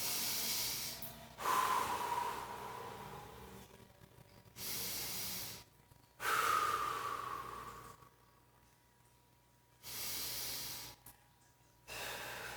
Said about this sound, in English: you're going to hold for 5 deep breaths.